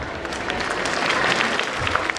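Sustained audience applause at a school annual day function, a dense steady wash of many hands clapping close by at an even level.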